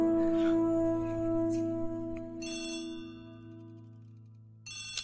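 A telephone rings in the Agatha Christie: The ABC Murders video game, a steady electronic ring with a pause midway before it starts again, set over a sustained musical background.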